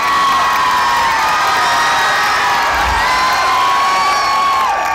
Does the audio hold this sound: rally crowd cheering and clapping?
yes